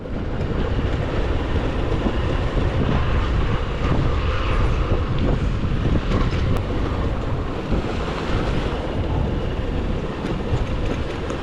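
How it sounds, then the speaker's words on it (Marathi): Steady broadband rush of a river flowing in a valley far below, mixed with heavy wind buffeting the microphone throughout; no voices. "आणि खाली वाहती नदी"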